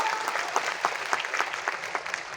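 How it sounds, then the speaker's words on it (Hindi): Audience applause breaks out at a motivational business meeting, a steady patter of many clapping hands with distinct sharper claps standing out, moderately loud and filling the room without voices. "एक बार जोरदार ताली आप सभी के लिए होना चाहिए।"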